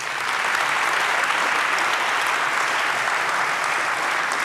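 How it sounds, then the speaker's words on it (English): A large audience applauds after a question on banking disruption at a Q&A session with Christine Lagarde, a dense, steady wash of clapping that holds at full strength throughout with no talk over it. "just judging by the applause, it sounds really attractive"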